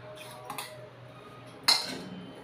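A spoon stirs gongura leaves into a spice powder in a bowl, giving soft scraping, a couple of light taps and one sharp metallic clink close by in a quiet room.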